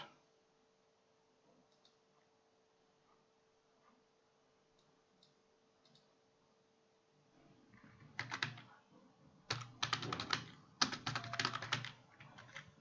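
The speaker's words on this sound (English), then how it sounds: "I think my typing was too fast" Fingers type on a computer keyboard in quick clusters of close, crisp key clicks after a long near-silent stretch, the clatter coming in dense bursts toward the end.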